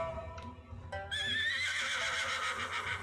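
Wild horses neigh in the Battle Realms video game, one short call followed by a long, loud whinny that carries through the rest of the moment, with faint hoof clops underneath and no talk.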